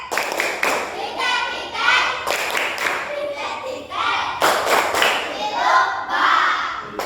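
Sharp group hand claps in quick bursts, repeating in a loose rhythm, with children's voices chattering in between.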